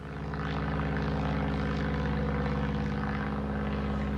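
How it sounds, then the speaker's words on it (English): A propeller airplane towing a Happy 4th of July banner passes over Newport News, Virginia, a loud steady droning engine with a deep buzzing hum that holds evenly throughout. "See the plane pulling the Happy 4th of July, Newport News, Virginia."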